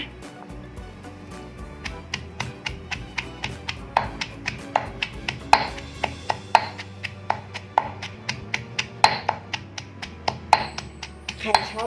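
Rhythmic pounding thuds of a pestle in a mortar grinding Northern Thai nam ngiao curry paste, steady and close, repeating about every quarter second with faint background noise.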